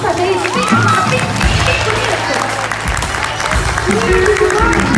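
An audience claps loudly at a children's Christian theatre show at an expo, dense applause continuing throughout under excited voices and children's speech.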